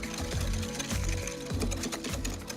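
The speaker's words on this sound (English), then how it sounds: "Then whisk the yolks and sugar together." Egg yolks and sugar being beaten together with an electric mixer, a steady loud motor whir with a rhythmic pulsing as the beaters churn, close up.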